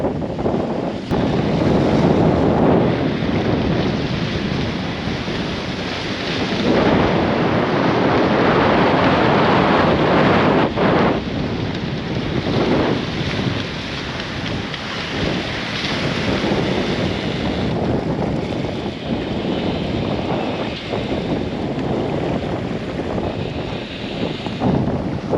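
Squall winds of 30 to 40 knots roar across a sailboat on an east-to-west Atlantic crossing. The wind blasts loudly and without a break, with waves and surf rushing beneath it.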